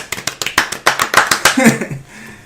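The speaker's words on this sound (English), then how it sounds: "Golf clap." Light, polite golf clap: a handful of close, crisp single hand claps in a steady rhythm with a voice speaking over them, trailing into quieter sound.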